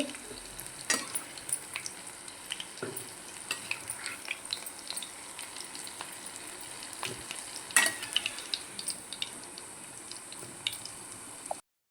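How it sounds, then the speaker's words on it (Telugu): Green chillies crackle and fry in hot oil with occasional sharp pops, a steady quiet sizzle running throughout without speech. "ఆయిల్ వేసేటప్పుడు పచ్చిమిరపకాయ వేసినప్పుడు ఒక్కొక్కసారి పేలుతుంది"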